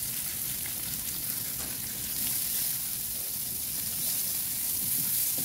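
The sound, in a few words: sautéing onions in a pan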